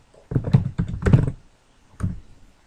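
A few quick bursts of clacking on a computer keyboard, two short flurries close together and a brief final press after a pause, in a quiet room.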